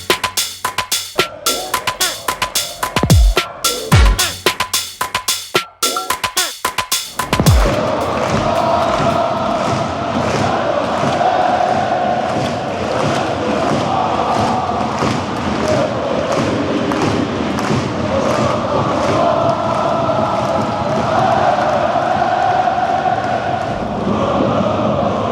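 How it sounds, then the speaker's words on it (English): Football supporters at an intense Belgian rivalry match keep clapping and cheering for their team after a loss against the rivals. A few loud thumps and claps open the clip, then a steady, dense roar of crowd noise carries on throughout. "you're still clapping, cheering on the team, that's good support"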